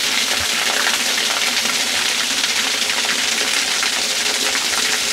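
A small waterfall at a secluded mountain temple in Japan, shaped for meditation beneath it, pours in a loud, steady, hissing rush of falling water with no pauses and no voices.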